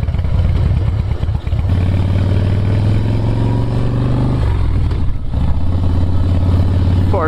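A 2005 Harley-Davidson Softail Springer Classic motorcycle engine idles with a loud, close, steady throb, then revs up in two strong rising bursts, dropping briefly between them before settling back into a heavy idle.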